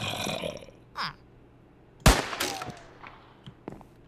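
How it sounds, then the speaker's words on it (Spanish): Gunfire in the video game Desperado, one loud sharp shot standing out after quieter game sounds and a whoosh, followed by fainter echoing clatter and a few small impacts. "¿Y si le disparo?"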